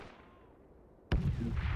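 A grenade goes off in Project Reality 2 after a second of quiet, a sudden loud close blast followed by a rumbling tail.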